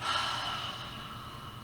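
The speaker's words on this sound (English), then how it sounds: "Breathing out like you're fogging up a mirror." A slow, steady open-mouth exhale during a gentle yoga breathing exercise, a soft, airy, ocean-like hiss that fades gradually with no talking over it.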